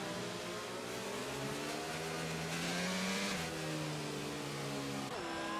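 Race car engines in a racing game drone steadily behind a safety car at Spa, several overlapping mid-pitched engine tones rising and falling together as the cars weave, loud and continuous with a brief pitch drop near the end.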